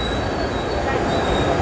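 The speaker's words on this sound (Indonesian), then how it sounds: "ini datang keretanya. Kereta stasiun guys." A train pulls into a station, a loud, steady close rumble with high wheel squeal running through the whole moment.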